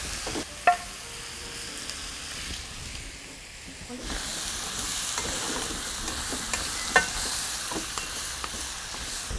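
Golden oyster mushrooms stir-fry in a pan with eggplant, giving a steady soft sizzle and hiss with occasional scrapes and taps of a utensil. The sizzle grows brighter partway through, and no one speaks.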